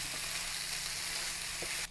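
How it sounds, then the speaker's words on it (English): Soondae and vegetables sizzle in a pan while being stirred, a dense close hiss with a faint steady hum beneath and a couple of soft stirring knocks, and no talking. "Stir everything together."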